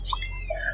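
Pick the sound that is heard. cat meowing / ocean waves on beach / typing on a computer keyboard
cat meowing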